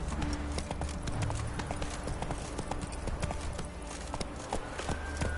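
Roach, the horse in The Witcher 3, trots with a steady, close clip-clop of hooves that runs the whole time over a faint bed of game music.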